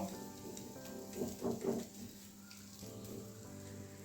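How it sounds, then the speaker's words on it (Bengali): Banana batter bread fries quietly in a pan, giving a soft, steady sizzle with a few brief louder crackles midway, no voices present. "একদিকটা ভাজা হয়ে গেছে মনে হয় এবারে আমি এটা এইভাবে উল্টে দেবো"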